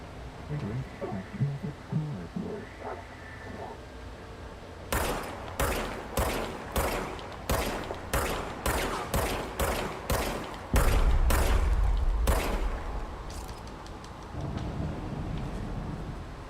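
Gunfire from a gun in the video game Control, a rapid string of about a dozen evenly spaced sharp shots, loud and close, followed by a heavier blast and rumbling tail, with no one talking.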